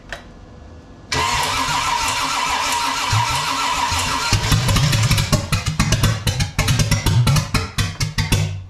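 A 454 V8 in a 1972 Camaro cranks over with a steady whirring starter drone, then breaks into rhythmic pulsing chugs as it tries to catch, loud and close.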